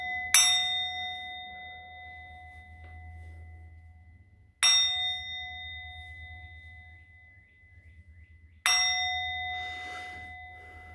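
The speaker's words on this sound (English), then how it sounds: "I'm going to ring the bell." A bell is struck three times, several seconds apart, each stroke a bright, clear ring that decays slowly with a sustained shimmer in a quiet room.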